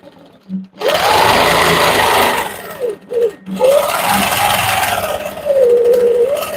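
A sewing machine stitching a quilt runs in a loud, close, continuous mechanical whir, briefly pausing twice before resuming its steady drone.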